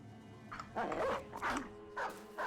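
Repeated barks from war dogs in the tactical combat game Battle Brothers, several short bursts in a steady rhythm over game sound, moderately loud and close.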